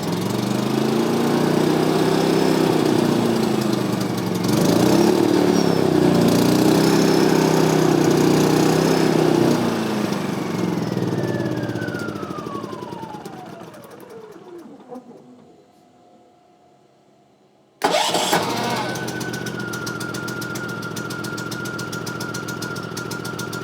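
A small ATV or motorcycle engine running on a lithium battery, pulsing loudly, then winding down and stopping, followed by a quiet gap before it cranks and settles into a steady idle.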